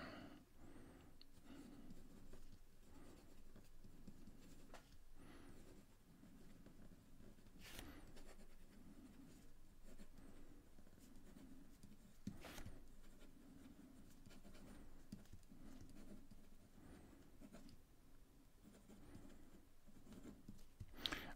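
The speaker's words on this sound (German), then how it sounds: "ihr könnt mal zuhören, wie der Stift hier über das Papier gleitet" A fountain pen with a medium nib glides over paper in a quiet room, a continuous soft scratchy rasp with small strokes and lifts, close and faint.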